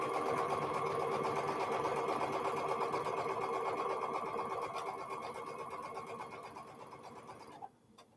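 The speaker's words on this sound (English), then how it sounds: "just feeding all this fabric through the machine, 1/2 square triangle unit at a time" A sewing machine runs steadily while chain piecing half-square triangle units of quilt fabric, a continuous even whir with rapid stitching buzz for most of the stretch, then stopping abruptly near the end.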